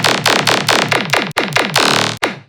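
A wet, parallel-processed riddim bass synth layer, heavy and distorted in a dubstep style, plays a loud chain of rhythmic wobbling stabs. Each bright, gritty burst sweeps down, broken by two brief silences, and it plays alone.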